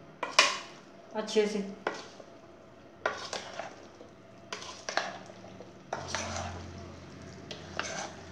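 Chana chaat ingredients being mixed in a bowl produce rhythmic bursts of spoon scraping and clinking, close and moderately loud, while a voice speaks briefly.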